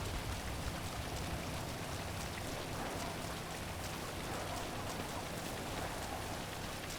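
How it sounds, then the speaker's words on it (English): Steady, dense video-game rain in GTA 5: a hiss with a constant wash of drops, continuous and even throughout, no voices. "There's the rain."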